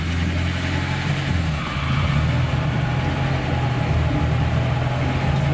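A homemade Ondatra tracked all-terrain vehicle drives at speed, its engine a loud, constant low drone with clattering running noise, heard from on board with no talk.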